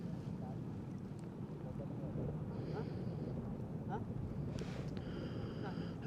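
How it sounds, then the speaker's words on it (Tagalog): Strong wind buffets the microphone in a steady, loud roar beside a lake shore with rising water, while a person speaks briefly over it. "Lakas ng hangin dito."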